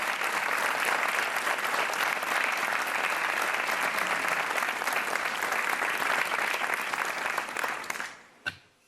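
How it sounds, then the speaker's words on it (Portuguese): A television studio audience on a game show applauds a contestant, dense loud clapping that holds steady for several seconds, then stops abruptly and leaves one final sharp clap. "Um aplauso para o Hernani Magalhães"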